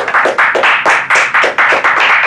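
Claps from an audience at a Toastmasters meeting, roughly a dozen sharp, evenly spaced hand claps in quick rhythm, close and loud, with no talking over them.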